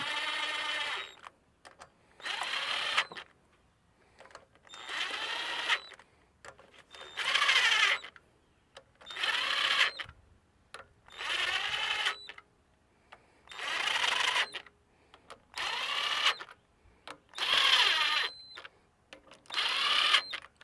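Screws are snugged down on a Comet P40 softwash machine during a leak repair, heard as about nine close, evenly spaced whirring bursts of a powered driver, each lasting roughly a second, with short pauses between and no talk.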